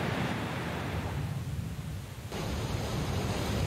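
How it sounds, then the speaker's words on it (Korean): A roaring waterfall on the Merced River in Yosemite gives a dense, continuous rush of falling water, loud and steady with no pauses and no voices. "머세드강에서 쏟아져 내리는 우렁찬 폭포의 물줄기를 바로 눈앞에서"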